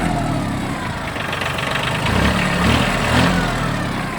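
Mitsubishi MT15 4WD compact tractor engine idling steadily after starting, a loud, continuous diesel rumble with slight swells in revs, no voices.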